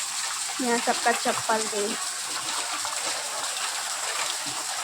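Rain falls and water runs outside a home, a steady, even hiss throughout, with a voice speaking briefly near the start.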